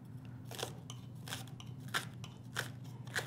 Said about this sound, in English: I'm going to cut up about 1/2 cup of scallions